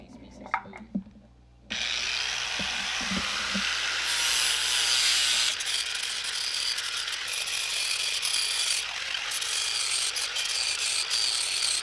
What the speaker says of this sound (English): So I'm going to use this grinder with the little flapper wheel, the sanding attacher,